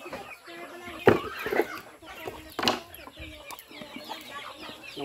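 A chicken clucks in short, scattered bursts close by, with a few sharper squawks standing out over quiet background noise.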